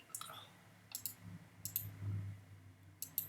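Computer mouse clicking during CAD drawing work, a few quiet, crisp clicks spaced across a few seconds, some in quick pairs like double-clicks, over a faint low room hum.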